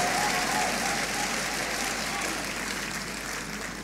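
A church congregation claps steadily and densely for several seconds, filling the sanctuary with sustained applause that eases off slightly toward the end.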